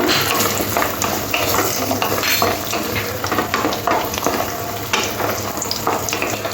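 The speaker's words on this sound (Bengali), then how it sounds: "প্রথমে আমি বড়িগুলো ভেজে নেব" Lentil dumplings fry in oil with a steady close crackle and sizzle, swelling in bursts as they are moved around the pan.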